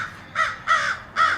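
Three harsh crow caws in a steady rhythm, fairly close and clear, coming from a fence beside a community orchard in summer, with no talking over them.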